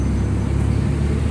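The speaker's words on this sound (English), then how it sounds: "A loud truck going by that's pulling another truck." A loud truck towing another truck rumbles past, a steady, heavy low roar filling the whole moment close by, with no voices.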